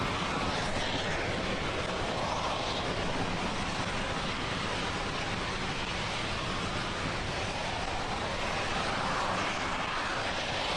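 SpaceX rocket first stage engines burning during ascent on a Dragon cargo launch to the ISS, supersonic and just past max Q. A dense, steady broadband roar stays loud and unbroken throughout, with no voices.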